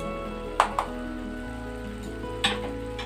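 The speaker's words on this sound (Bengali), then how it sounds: "মশলাগুলো দিয়ে খুব ভালো করে একটু নাড়িয়ে নেব।" Spices are stirred in a frying pan for an Indian egg curry: a soft steady sizzle with a few light spatula taps against the pan, under steady tonal background music, with no talking.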